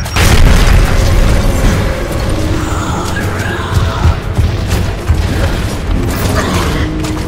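Frag grenade explosion in Gears of War, a loud heavy boom at the start followed by rumbling debris, mechanical clatter and smaller pops, with no talk.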